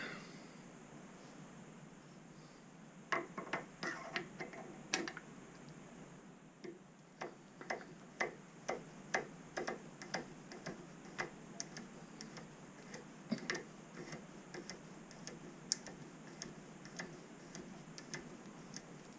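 A tapping machine's ratchet mechanism clicking in a workshop, a long run of sharp, fairly regular ticks, close and crisp over a quiet background.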